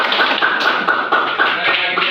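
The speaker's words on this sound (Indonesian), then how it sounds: "Kelompok 2 ada yang tepuk tangan." Classroom students clap their hands together in rhythmic group bursts, a series of sharp, regular claps repeating steadily at close range.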